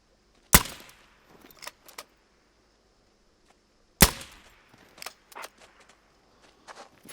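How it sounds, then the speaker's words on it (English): Two sharp air rifle shots fired at an animal in the hunting game Hunter Call of the Wild, each a loud crack followed by a short tail, with faint footstep-like clicks and rustles between them. "30 meters, yeah, we're gonna take you with the air rifle"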